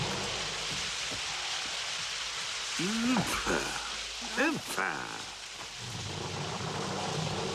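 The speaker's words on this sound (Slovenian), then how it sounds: "Spet je začelo deževati." Cartoon rain hisses steadily and broadly throughout, with thunder rumbling beneath; a few brief cartoon voice sounds rise and fall over the downpour midway.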